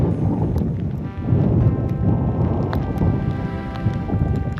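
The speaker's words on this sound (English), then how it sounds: "It's hailing!" Hail and wind batter an exposed gritstone scramble in the Peak District, a dense, continuous rushing patter with gusty roar that swells and stays loud throughout, with no voices.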